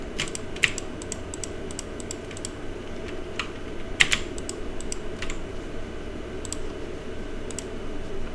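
Computer keyboard keys and mouse clicks during text editing, a soft run of close, light taps and clicks with a couple of sharper clicks, over a low steady background hum.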